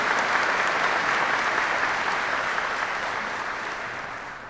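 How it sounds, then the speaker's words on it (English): A large audience applauding at a Warrant Officer Candidate School graduation ceremony, a full, even wash of clapping that holds steady and then slowly fades toward the end. "Please join me in a round of applause for this outstanding team"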